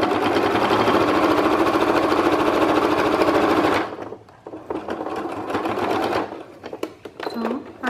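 Sewing machine stitching a patchwork quilt, running loud and steady for about four seconds, then stopping into quieter handling noises and short bursts of stitching.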